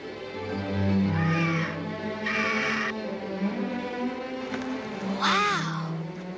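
A bald eagle gives several rising, squealing calls in separate bursts over a steady low background hum, fairly close and clear.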